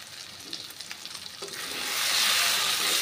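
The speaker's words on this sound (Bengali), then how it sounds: "আবারও কিছু সময় সব কিছু নাড়াচাড়া করে নেব" Potatoes with spices being stirred in a hot pan on a village kitchen stove, with a steady close sizzle of frying and scraping stirring strokes that swell louder in the second half, no voices.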